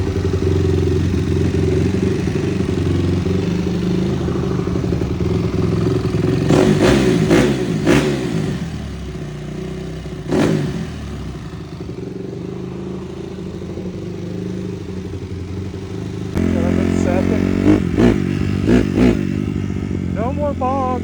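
A Honda CRF250 dirt bike engine runs close by with a steady, throaty idle, breaking into several sharp revving bursts before settling back to a rumble.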